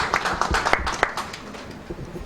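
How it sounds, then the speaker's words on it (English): An audience applauds at a ceremony honouring influential women in Mauritius, with scattered claps that are moderately loud at first and then thin out and fade toward the end. "that deserves a good applause"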